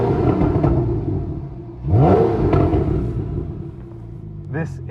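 Porsche 911 Carrera GTS (991.1) exhaust revving close by, a steady idle rumble swelling into a sharp rev near the middle and settling back, with a quick second blip at the end.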